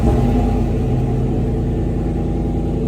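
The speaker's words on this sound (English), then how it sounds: "Now, this truck has a pretty awesome exhaust," Nissan Titan pickup truck with an aftermarket exhaust, a loud, steady, deep idling rumble heard up close and alone throughout.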